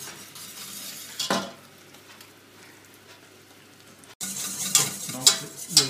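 Caramel made from water and sugar cooks in a pan with a soft, steady sizzle. Brief scraping and clinking of utensils against cookware cut in, with a louder bubbling clatter near the end.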